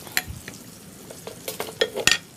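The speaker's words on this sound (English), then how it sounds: "I think I'm going to use a whisk." A whisk working in a pan on an induction burner, irregular metallic scrapes and clinks over a faint sizzle, close and loud.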